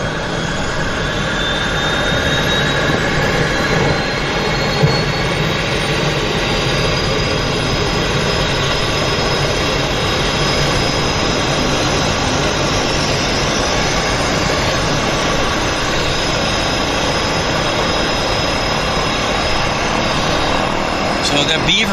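A de Havilland Beaver floatplane turns at a harbour floatbase, its radial engine a loud, steady drone that holds for the whole stretch, with faint talk mixed underneath.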